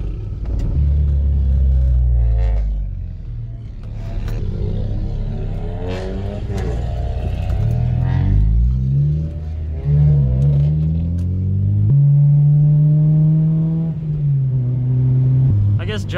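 Car engines rev and rumble nearby as cars, including an RSX and an S2000, pull away one after another from a car meet, with rising pitch sweeps from accelerating motors and some voices mixed in.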